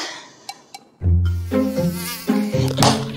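A mosquito's whining buzz arrives close and loud after two light taps, droning on with stepwise shifts in pitch as it hovers near the listener.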